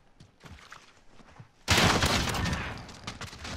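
A Snowball 5000 shotgun in the Modern Warfare video game, heard as a sudden loud blast with a burst of debris that rings out and slowly fades, after quieter footstep-like shuffling.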